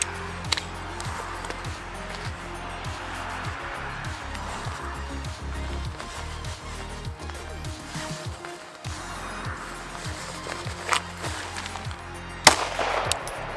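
Handgun shots crack at a shooting range, a steady string of sharp reports over the range background, with one louder shot standing out near the end.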